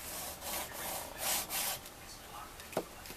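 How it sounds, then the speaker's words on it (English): Rubbing and scraping strokes from burnishing down material on a craft box project, several short soft passes close by, with a faint tap near the end. "Burnish that down."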